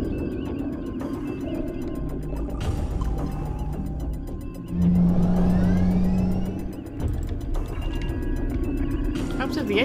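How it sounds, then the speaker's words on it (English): Starship engines going into warp in the Star Trek Legacy video game, a swelling hum and throbbing drone with a loud rising tone midway, under game effects and some speech. "Take us into warp."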